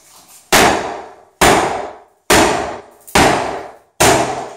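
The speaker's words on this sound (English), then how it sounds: "it's just not as fun as beating your wall with a sledgehammer" A sledgehammer strikes a bathroom wall during demolition, five loud close crashing blows at a steady pace, each ringing out and fading before the next.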